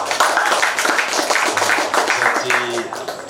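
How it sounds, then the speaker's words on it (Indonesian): Audience applause at a cultural dissemination event in Kudus, a dense run of hand claps that stays steady for the whole stretch, with a few low tonal hums and murmurs underneath. "Beri tepuk tangan dulu untuk beliau."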